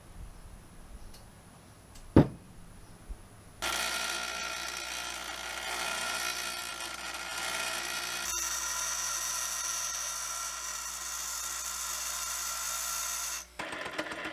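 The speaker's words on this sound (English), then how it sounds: "I guess I should grind the steel into an actual cutter." Steel being ground into a cutter on a machine in a home shop: a sharp knock, then a steady, loud broadband grinding whine that runs continuously for about ten seconds before stopping abruptly.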